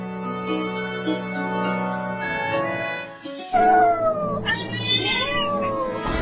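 A cat meows repeatedly at close range on a street beside children with a bicycle, the calls rising and bending in pitch over a steady background tone, with a louder burst of meowing near the end.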